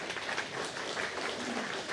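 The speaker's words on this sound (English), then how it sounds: "a round of applause" Mourners at a funeral celebration break into a round of applause, a soft, fairly distant patter of many hands clapping at an even level throughout.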